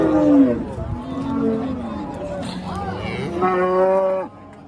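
Several cows moo loudly and at length, one call after another, at a livestock market in Qarshi, with people chattering faintly in the background.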